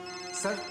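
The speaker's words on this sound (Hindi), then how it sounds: "सर ये उसी शालिनी का फोन है जिससे मेरी बात हुई थी।" A telephone rings in a tense scene from a Hindi horror TV drama, a short, bright electronic ringtone burst that swells for under a second.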